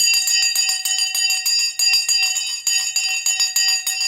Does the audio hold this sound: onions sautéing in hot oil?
no